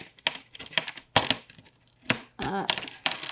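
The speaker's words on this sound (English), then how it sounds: "so I have to kind of cut around" Close cutting and tearing around an indent in cardboard statue packaging, a string of short crinkling snaps and ripping strokes in irregular rhythm, with a longer scraping tear near the end.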